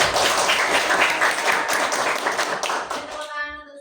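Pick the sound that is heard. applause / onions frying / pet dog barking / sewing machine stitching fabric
applause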